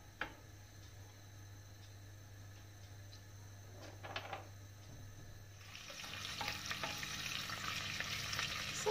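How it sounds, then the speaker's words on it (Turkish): Tomato and tomato paste sauté in a hot pan with a low steady sizzle and occasional stirring clicks, the frying growing louder and denser partway through, for a Turkish leek dish. "Domatesin salçanın kokusu çıkana kadar biraz kavuralım."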